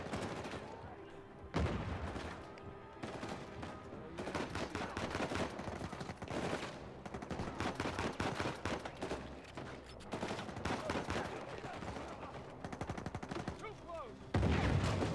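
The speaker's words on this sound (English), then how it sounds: "Stop shooting me." Gunfire in the video game Uncharted 4, with rapid bursts of automatic fire and single shots crackling almost continuously, loud and close, with a sharp heavy burst near the end.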